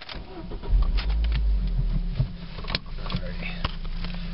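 Ford Focus engine starting after a clutch master cylinder replacement, a short crank and catch followed by a rumbling idle with a few clicks and knocks, close by.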